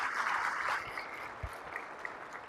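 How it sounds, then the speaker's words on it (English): Applause from a live seminar audience at a Miami summit, a broad crackling wash that is fuller at first and then thins to a quieter patter. "Give him a round of applause."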